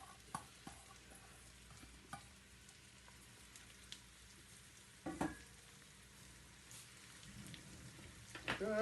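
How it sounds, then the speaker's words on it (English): Faint crackling sizzle of food frying in a pan, a soft continuous hiss with scattered pops and a few utensil taps. "Hopefully we'll hear a sizzly sound. Oh yes, some sizzle."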